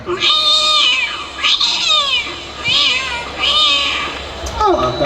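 A voice imitates fighting cats, producing a series of loud, rising and falling yowls and snarling meows in quick succession, close to the microphone.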